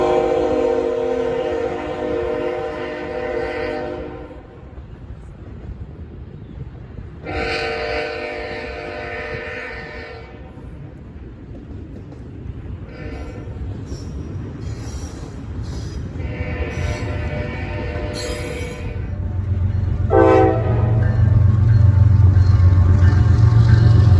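A freight train with a Union Pacific engine rumbles past close by in Fostoria, Ohio, as its horn blasts several long, loud honks, with heavy wheel and car noise building toward the end.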